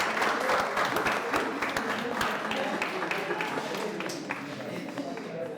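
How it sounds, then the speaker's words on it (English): A crowd gives a round of applause for a group leaving the Jelumu Challenge, a dense, steady patter of many hands that begins strong and tapers slightly toward the end. "Let's give them a round of applause."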